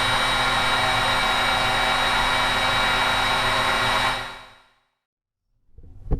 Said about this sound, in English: I've got a heat gun. I'm gonna heat up the ball socket here and expand it slightly